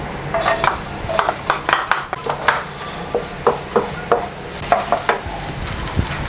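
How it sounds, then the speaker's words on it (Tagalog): Garlic sautés in a pan for lumpiang ubod: a steady sizzle runs under repeated scraping and clinking of a utensil stirring against the pan. "So gisa lang natin yung ating bawang."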